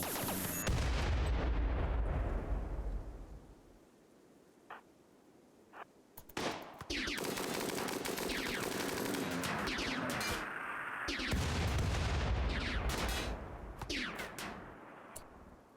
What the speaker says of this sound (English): I'm gonna stop the mortars